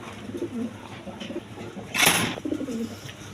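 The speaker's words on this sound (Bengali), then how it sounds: "এখানে এক পেয়ার কবুতর আছে দেখেন" Low, throaty coos from pigeons for sale roll on steadily nearby, interrupted briefly by a short burst of rustling noise.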